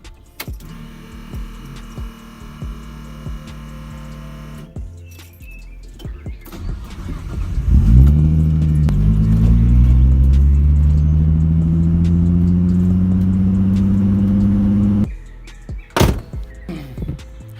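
A car fitted with an RB25 engine conversion and CV axles drives around a quiet residential neighborhood, its engine rising in a loud, close, steady pull of climbing harmonics after door thunks and idle, then dropping back to idle near the end.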